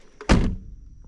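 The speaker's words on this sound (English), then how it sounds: "And just listen to the way these doors close." A 1982 Mercedes-Benz 300D car door shuts with one solid, heavy thunk, close and loud, preceded by a faint latch click and followed by a short fading rumble.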